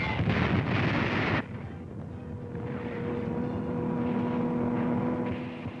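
Nazi Stuka dive bomber in a 1943 North Africa battle, heard as a loud roaring blast up front, followed by a sustained distant droning aircraft engine with a steady tone under rumbling battlefield noise.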